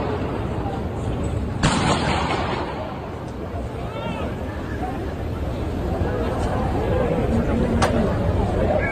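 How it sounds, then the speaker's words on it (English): Gunfire at a politician's outdoor campaign speech, with two sharp loud bangs, one early and one near the end, cutting through a noisy crowd murmur and babble. "Two gunshots fired, two loud explosions clearly heard in that video"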